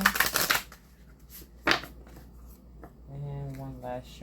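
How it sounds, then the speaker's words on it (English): A deck of oracle cards gets shuffled, two bursts of riffling and flicking near the start, then a quiet pause before a voice begins talking. "Split the deck one more time."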